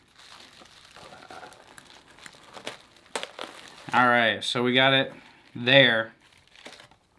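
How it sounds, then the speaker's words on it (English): Plastic and paper wrapping around a beard oil package crinkles softly in short bursts at close range, then someone speaks over and between the rustling. "So we're going to unwrap this."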